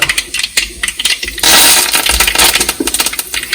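Mustard seeds crackle in rapid pops in sizzling hot oil, loud and close, growing into a dense, continuous spatter after a sparser start.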